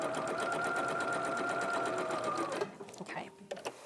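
A sewing machine stitches in a fast, steady run of needle strokes at close range for over two seconds, then stops, leaving soft handling clicks and thumps.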